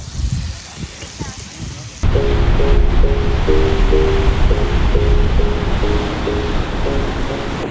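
Steady roar of surf breaking on a beach in Mexico, big waves, loud and continuous, with a faint repeating beep-like tone over it.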